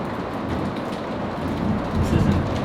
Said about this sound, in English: Hail. It's hail.